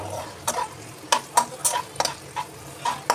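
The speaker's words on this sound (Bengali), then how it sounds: "একটুখানি নাড়াচাড়া করে নিই" Onions fry in a pan with garlic, salt and a little ground pepper while a spoon stirs them in short bursts of scraping and clatter over a soft background sizzle, with no talking.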